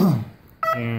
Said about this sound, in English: ESC's got power, obviously, because the motor's beeping.